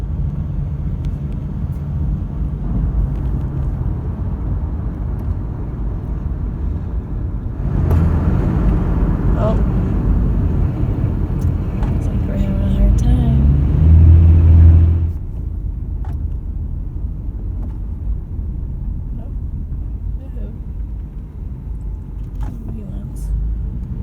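A big-block Mopar B-body car drives on the road with a low, steady rumble that swells for several seconds in the middle and then settles back to a quieter drone.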